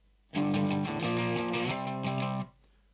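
Distorted electric guitar power chords ring out open and unmuted, sustained for about two seconds, loud and close, then cut off cleanly.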